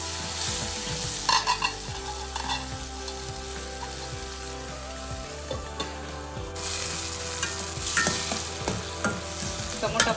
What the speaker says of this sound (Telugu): టమోటా కూడా బాగా ఫ్రై అవ్వాలి.